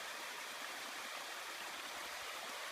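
Stream water flowing over rocks on a hike, a steady, even hiss of rushing water close by with no voices or other sounds.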